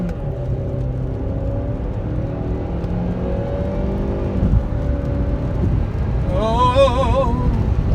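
A 2011 Saab 9-5 accelerates hard from inside the cabin, a steady, loud engine drone climbing in pitch over several seconds, then a higher whine rising toward the end.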